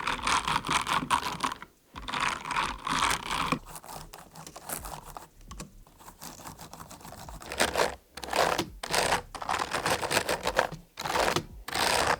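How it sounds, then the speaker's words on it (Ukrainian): Rapid clacking of mechanical keyboard keys, typed in several bursts with brief pauses between them, close and fairly loud. "звук буде йти не лише від самого перемикача"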